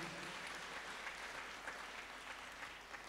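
A church congregation at a Kikuyu-language service in Kangemi claps to welcome a guest, with steady, dense applause from many hands filling the room throughout, with no talk over it.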